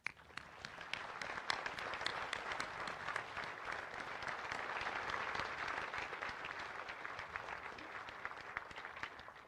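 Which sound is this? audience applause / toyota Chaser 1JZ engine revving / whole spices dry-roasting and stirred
audience applause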